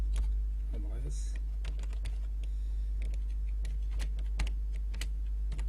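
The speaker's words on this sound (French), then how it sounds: "je peux taper adresse" Computer keyboard keys tapped in quick irregular bursts while an address is typed, close and clear over a steady low hum, with a voice talking underneath.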